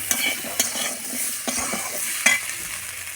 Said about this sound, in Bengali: আদা বাটা, জিরে গুঁড়ো, এই ছোটো চামচের 1 চামচ। অল্প তরকারি তো, এবার ভালো করে কষে নেব মশলাটা।